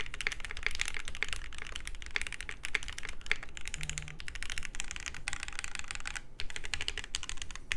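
Steady typing on a Wave 88 plateless mechanical keyboard, a close, fairly quiet stream of rapid keystrokes with a slightly rattly, loose clack and no speech.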